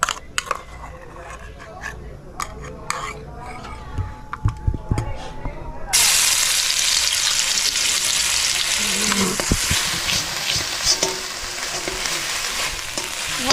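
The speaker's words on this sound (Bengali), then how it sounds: "আবার কড়াইয়ে হালকা করে তেল দেওয়া হলো, তারপরে আদা রসুন পেঁয়াজ পেস্টটা দেবো" Ginger, garlic and onion paste hits hot oil in a kadai, and after several seconds of quiet clinks and a voice talking, a loud, continuous close sizzle takes over, with occasional stirring scrapes.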